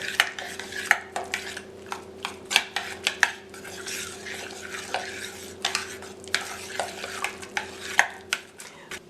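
A spoon beats egg rapidly into buñuelo de viento dough in a pot, giving quick repeated clacks and scrapes against the metal in an uneven, energetic rhythm, with no voices.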